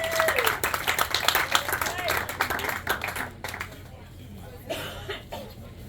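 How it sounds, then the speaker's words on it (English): A small crowd at a lakeside marina fishing tournament weigh-in claps for the new leader, scattered applause under chatter and a cough that thins out partway through, leaving talk and a few stray sounds. "Give her a round of applause."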